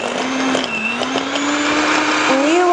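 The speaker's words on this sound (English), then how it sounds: "Just beat this until it becomes a little bit fluffy." An electric mixer beats softened butter and brown sugar with a steady high whirring drone, its pitch drifting slightly as the load changes, close and continuous for a few seconds.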